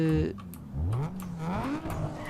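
Tesla Model S in Need for Speed Underground 2 giving off a combustion-style engine note despite being electric, revving up and down in sweeping pitch bends with brief tire squeal, close and continuous.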